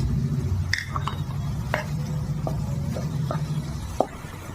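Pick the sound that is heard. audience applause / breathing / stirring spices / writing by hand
stirring spices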